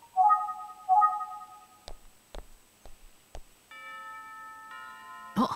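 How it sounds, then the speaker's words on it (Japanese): A Famicom detective game's school chime signals the end of class: two short electronic tone phrases, then sharp ticking clicks, followed by a longer sustained multi-note chime, all quiet and clean with no voices. "あ、チャイムだ。 授業が終わったようだな。"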